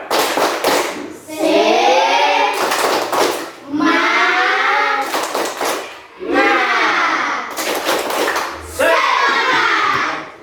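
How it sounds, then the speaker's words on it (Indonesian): Classroom of students performing the rhythmic 'tepuk semangat' clapping: loud, patterned bursts of hand claps alternating with group chanting in repeated phrases, voices and claps close and energetic. "Kita tepuk semangat dulu. Tepuk semangat."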